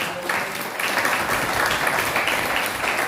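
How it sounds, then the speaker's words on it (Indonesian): Steady applause from a group, a continuous wash of clapping filling the whole stretch without pause. "Ya, tepuk tangan dulu."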